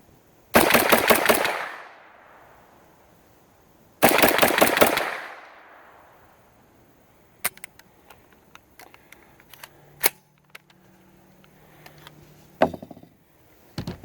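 Two loud rapid-fire bursts of automatic gunfire at the Knob Creek machine gun shoot, each about a second long with a trailing echo, followed by scattered distant single shots and clicks outdoors.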